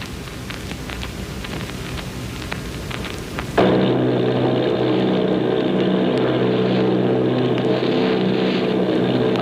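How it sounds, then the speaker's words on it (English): Army bomber plane engines in an old radio drama set off Bayonne, New Jersey, cut in abruptly after a noisy stretch as a loud, steady propeller drone that holds evenly to the end. "Army bombing plane B-843 off Bayonne, New Jersey."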